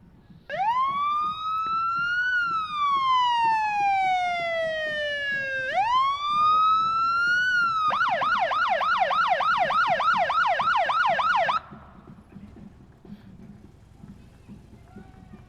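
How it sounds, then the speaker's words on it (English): Parade sirens at a Memorial Day parade in Bedford: a loud wailing siren rises and falls twice, then a rapid yelping warble runs for several seconds before cutting off, with crowd noise and voices underneath. "And what is a parade without the sirens?"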